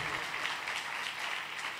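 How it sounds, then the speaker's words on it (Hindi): A church congregation claps loudly through a sermon, a steady dense wash of applause with no breaks and no talking over it. "आइए पाक रूह के लिए ज़ोरदार ताली बजाइए।"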